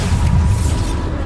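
A Bombarda spell explosion in Hogwarts Legacy lands as a loud, close, heavy low boom with rumbling body and a hissing tail that fades within about a second.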